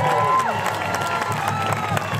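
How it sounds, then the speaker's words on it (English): Audience at a hula school spring showcase clapping and cheering, a busy crowd wash with scattered voices and shouts mixed in, moderately loud throughout. "Everybody give him a nice round of applause."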